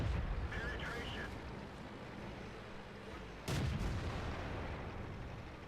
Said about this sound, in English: I start to shoot high explosive shells at the T-95 in the hopes that I'll do some critical damage